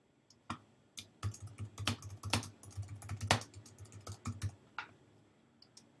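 Typing on a computer keyboard to enter a document name in Google Drive, a burst of close, uneven key clicks with a few louder strikes and brief pauses.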